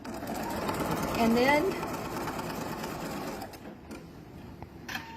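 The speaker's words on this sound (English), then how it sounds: "I'm going to tell it to go again. And that is going to stitch that down." Embroidery sewing machine stitching a pieced block in the hoop, a steady rapid mechanical chatter that runs loud for a few seconds and then slows and stops, with a person talking over it.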